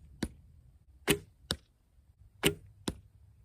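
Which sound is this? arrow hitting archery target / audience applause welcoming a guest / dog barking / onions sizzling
arrow hitting archery target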